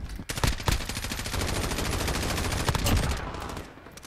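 Steady automatic gunfire in Call of Duty Modern Warfare on a Ground War map, a dense rapid stream of close shots running nearly the whole time with a few louder cracks.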